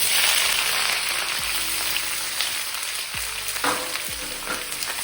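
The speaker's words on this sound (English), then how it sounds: "Then I'm going to put all this vegetable in the pot." Vegetables for a tofu stir fry frying in a hot pot, a loud, dense sizzle that stays steady throughout, with a few soft stirring knocks, close up.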